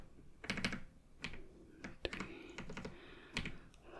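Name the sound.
typing on a computer keyboard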